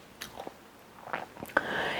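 A bite into a banana nut protein loaf lands close to the microphone, with soft chewing and mouth sounds around it and a brief burst of faint speech at the end.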